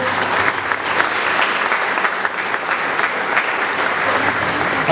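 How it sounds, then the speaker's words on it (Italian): An audience applauds at a political programme and candidate-list presentation in Barcellona, giving a loud, dense, continuous round of clapping for a young candidate with no voices over it. "Un applauso a Antonio Catalfamo."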